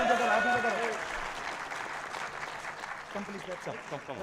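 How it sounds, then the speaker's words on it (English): Steady applause from an audience at a business forum, with a voice speaking over the clapping at the start and again near the end. "One more clap."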